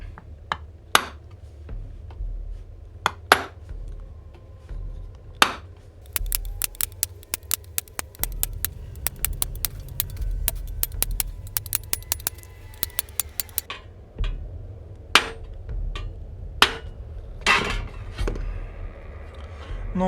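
A small hammer strikes a chisel over a metal plate while a trilobite fossil shape is stamped into it. Sharp metallic taps come singly at first, then in a quick, dense burst, then spaced out again, close and clear.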